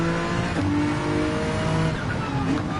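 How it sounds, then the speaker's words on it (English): Ferrari 458 race car engine in the Gran Turismo racing game at the Red Bull Ring, a loud sustained high-revving wail with shifting pitch as the car accelerates and climbs through the gears, heard alone without talk. "We got the Ferrari 458 with its beauty and beautiful sound versus the NSX"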